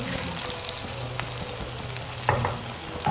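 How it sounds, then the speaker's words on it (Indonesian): Shallots sizzle and fry in a pan while bobor budin is cooked at home, a steady close crackle with a few louder pops and stir scrapes, no talking. "Berambang goreng."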